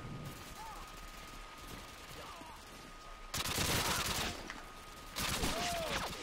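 UMP45 submachine gun bursts in Call of Duty MW2 on the Wreckage map, with a dense rattle of rapid shots that jumps louder in two stretches over steady game ambience.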